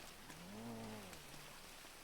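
Rain falls on a roof in the GTA roleplay video game, a faint, steady patter with a low droning tone rising and falling over it.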